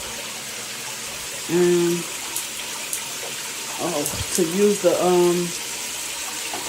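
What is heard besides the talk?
water running from handheld rain shower head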